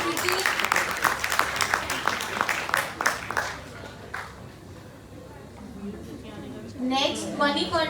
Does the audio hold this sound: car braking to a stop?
no